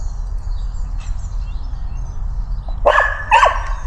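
Two sharp dog barks ring out close by near the end, after a stretch of quiet outdoor ambience in Essex with faint background rumble.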